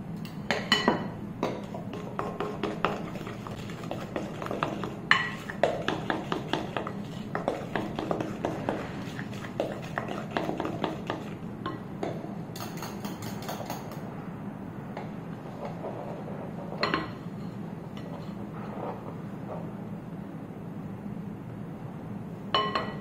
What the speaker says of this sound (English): please mix the eggs or beat the eggs again